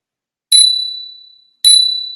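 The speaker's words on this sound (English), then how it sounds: "I won a run bell. And here's the run bell" A Run Bell, a runner's safety bell, rings twice with bright metallic dings about a second apart, each ring decaying slowly. The rings are close and loud in otherwise quiet surroundings.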